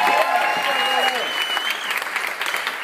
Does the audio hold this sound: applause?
yes